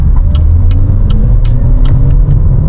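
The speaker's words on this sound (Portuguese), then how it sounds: "ele vai arrancar no modo elétrico" A BYD King car accelerates hard from 0 to 100 km/h, pulling away in electric mode with a loud, steady low rumble and rising road noise throughout.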